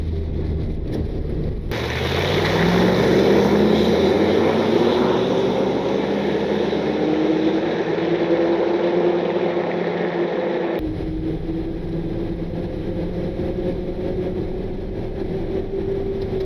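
A vehicle drives along a mountain highway in freezing conditions, a steady engine and road roar with a rising drone and wind rushing over the microphone, loud and continuous throughout, with no talk.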